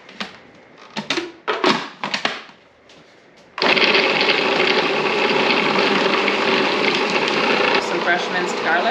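Frozen pineapple and mango being chopped in a food processor: a few short choppy motor pulses, then a long steady loud whir running continuously to the end.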